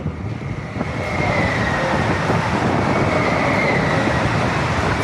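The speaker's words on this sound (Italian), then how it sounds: "Qui stiamo costeggiando una linea ferroviaria, guarda il treno, wow!" A train rolls along a railway line beside a gravel cycling route, a loud continuous rumble and rattle of wagons passing close by, with a faint high squeal on top.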